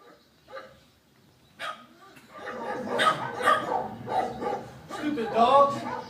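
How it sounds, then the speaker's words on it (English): City dogs bark in short, repeated bursts, faint and sparse at first and then louder and busier, with people talking over the barking for much of it. "Stupid dogs. The city's full of it."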